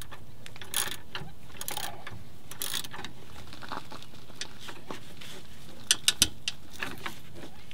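Wrench turning a 3/4-inch shock absorber bolt on a vehicle at a salvage yard, with sparse ratcheting clicks and a quick run of three sharp metallic clicks near the end over steady outdoor background noise.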